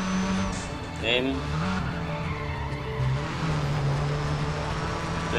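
Tires squeal and skid under hard braking in a Need For Speed ProStreet race car, the pitched screech bending over a loud, steady engine roar with a voice talking throughout.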